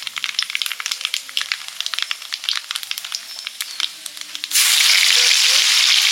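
Dry red chillies, black cumin and bay leaves crackle and pop in hot oil, a rapid run of sharp spits that swells into a loud, steady sizzle partway through, close up with no talking.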